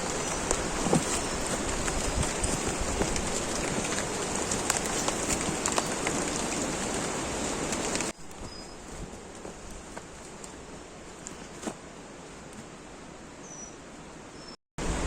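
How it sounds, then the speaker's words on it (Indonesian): Steady rain falls on a mountain trail near the summit of Mount Pesagi, a loud continuous hiss that drops abruptly to a quieter patter partway through, with a few sharp drips. "Mulai hujan lagi kawan. Udah mulai deras"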